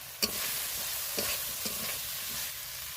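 Fried potatoes with ginger-garlic paste and chilli sizzle in a pan, a steady broadband hiss broken by a few sharp scraping stirs, close and alone with no voices.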